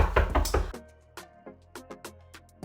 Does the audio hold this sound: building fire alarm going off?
no